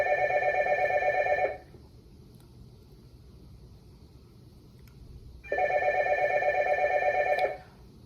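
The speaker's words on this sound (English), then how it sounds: "That's the hotel phone." A hotel room telephone rings in two long electronic bursts separated by a pause of several seconds, clear and fairly close against a quiet room with no talking.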